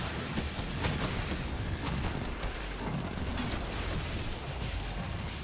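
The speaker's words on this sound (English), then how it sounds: "Hitting their little crit canister will actually get some nice explosions" Explosions in the Destiny video game, set off by hitting an enemy's crit canister: a dense, loud roar of blasts and rumbling booms running continuously with no clear gaps.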